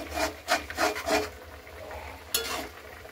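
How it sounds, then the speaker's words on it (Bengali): Green chili rubbed against a grater during cooking, a handful of close, scratchy rasping strokes in quick succession followed by a quieter stretch and one final short scrape. "একটু লঙ্কাটা ঘষে দিচ্ছি।"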